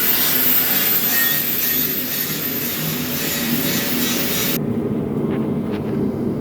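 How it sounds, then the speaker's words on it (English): An angle grinder works against the metal frame of a Chevy C10 truck, making a harsh, loud, continuous grinding hiss that cuts off sharply near the end, followed by faint clinks. "he's grinding down the frame because you only need to bolt these in"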